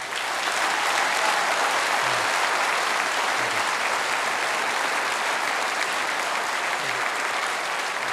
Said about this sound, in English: Please thank tonight's special guest, the Treasurer, Joe Hockey.